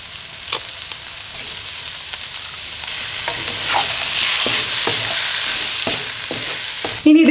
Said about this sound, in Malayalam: ഉപ്പും ചേർത്ത് കൊടുത്ത് നല്ല ഹൈ ഫ്ലെയിമിൽ കുക്ക് ചെയ്തെടുക്കാം.